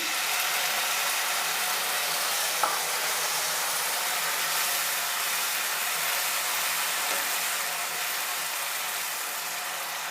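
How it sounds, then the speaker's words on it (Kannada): A steady, loud sizzle of tomato puree frying in a hot pan, continuous throughout with a faint clink or two and no voices. "ಈಗ ಅದು ಫ್ರೈ ಆಗ್ತಾ ಇದ್ದಾನೆ"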